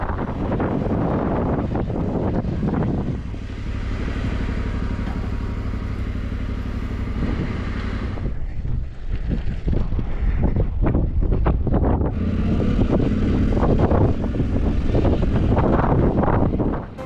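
Cold, gusty wind buffeting a microphone on a mountain pass in Iran's Alborz mountains, a loud rumbling roar that dips briefly midway and then surges back, with no talk.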